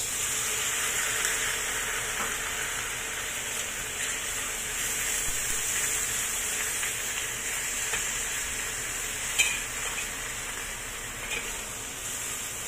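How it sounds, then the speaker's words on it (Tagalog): Bean curd frying in a pan, a steady bright sizzle with constant hiss that holds evenly for the whole stretch, broken once by a brief louder pop near the end. "I-fry lang muna natin."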